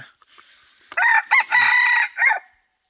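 A rooster crows once, loud and close, in a long drawn-out call broken into several bursts, with near silence before and after.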